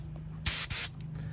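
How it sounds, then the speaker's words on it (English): Two short, sharp bursts of hissing compressed air from a spray nozzle, blown through a pressure washer to winterize it, close and loud, back to back with a tiny gap. "Then I'm simply taking compressed air, a little spray nozzle,"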